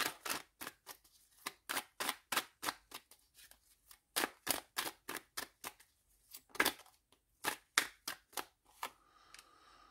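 Tarot cards are cut and riffled, producing a quick series of crisp, close snapping and shuffling bursts in an irregular rhythm, fairly quiet, with no talking.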